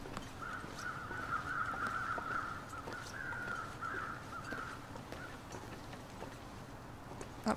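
Crows caw repeatedly in a stretch of harsh calls during The Long Dark, carried over a steady rushing ambient bed of wind, then the calls fade out and the wind continues alone.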